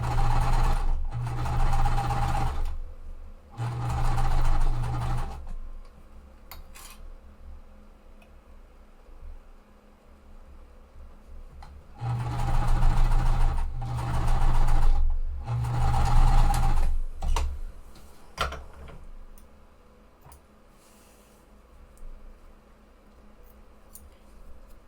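Sewing machine stitching a quilt seam for a Wild West puzzle mystery quilt, running in two bursts of steady mechanical whirring separated by quiet pauses, with faint handling clicks in between.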